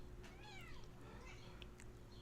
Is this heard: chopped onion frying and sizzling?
no